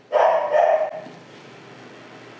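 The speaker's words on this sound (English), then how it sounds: "The neighbor's dog is outside barking, setting off Brady inside." A neighbor's dog barks outside, giving two loud, close barks in quick succession, then quiet background noise and a faint sharp sound at the very end.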